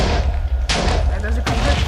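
Slime TNT cannon firing in the Minecraft video game, two loud broadband blasts about three-quarters of a second apart over a constant low rumble, with a voice talking underneath.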